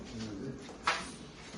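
Soft pigeon coos close by, a short low warble with a brief louder note midway, faint background murmur.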